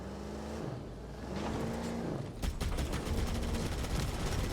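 Gunfire in the Halo Campaign Evolved game, with heavy rapid bursts of shots beginning partway through and continuing loudly over a rumbling vehicle-like engine drone.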